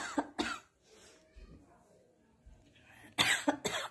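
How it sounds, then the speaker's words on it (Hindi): Several sharp coughs, close and loud: two near the start, then a quieter stretch, then a cluster of harsh coughs at the end. "खांसी हो गई"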